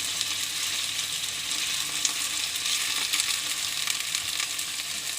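Turkey fillet frying in a pan, giving a steady, dense sizzle with crackling spatter throughout, close and continuous with no talking.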